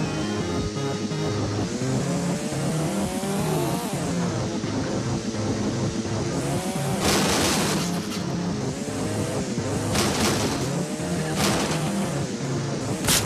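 A motorbike engine in a video game hums and revs steadily throughout, its pitch rising and falling with gear changes over a busy layer of game sounds and short bursts of noise.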